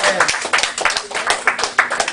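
A church congregation at a revival service claps hands in a lively, uneven burst of rhythmic claps, loud and close, filling about two seconds with voices mixed in.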